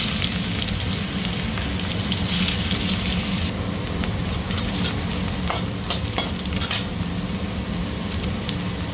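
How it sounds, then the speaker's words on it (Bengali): Cumin seeds hit hot oil left from frying hilsa fish and crackle in a constant loud sizzle, with sharp stirring scrapes and clicks breaking through at intervals. "তেলটা গরম হয়ে গেছে, জিরে দিয়ে দিলাম"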